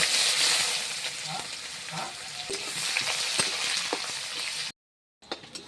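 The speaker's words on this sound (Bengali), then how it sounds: "পেঁয়াজ লাল করে ভাজা হয়ে গেছে" Chopped onions fry in hot oil for an aloo dum base, a steady loud sizzle with occasional stirring scrapes, cut off briefly by a silent gap near the end.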